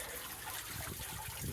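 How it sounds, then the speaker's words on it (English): Water from a boat's pump rushing out through a hose, a faint, fast, splashy gush that runs for a moment with no talk. "Lots of water coming out pretty fast."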